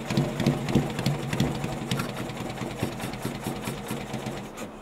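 A Yamaha XS650 chopper motorcycle engine idles just after a kick-start, close by, giving a steady rapid mechanical ticking and rumble throughout.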